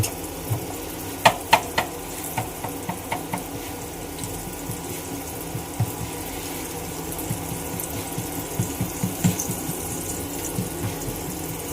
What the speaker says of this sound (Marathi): मच्छी फ्राय करायला घेतले त्याच्यामध्ये एक लसूण आणि लसूण आणि कढीपत्ता त्याचा पहिला तडका दिला